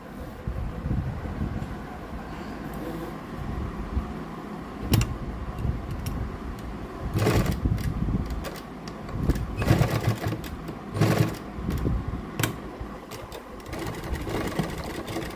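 A sewing machine stitches the shoulder seam of a garment in short, rattling bursts with brief pauses between runs, heard close up.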